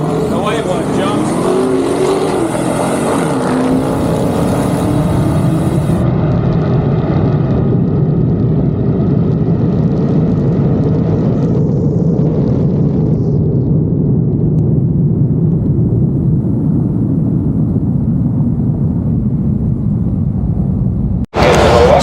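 Loud, steady roar of a Dodge Charger police car at a dragstrip racing a Hellcat Redeye, with engine noise and wind rushing continuously and close, cutting off abruptly near the end.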